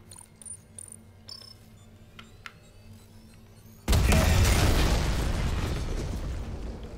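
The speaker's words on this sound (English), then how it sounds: "This is closer to the explosion than I was before." A few faint clicks in near-silence, then a sudden massive explosion in the Dead Space remake roars in and rumbles on, slowly fading over several seconds.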